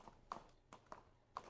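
Horse hooves clip-clopping as a horse runs in the video game Stars End, with a few distinct near hoof beats in an irregular rhythm over a low steady background hum.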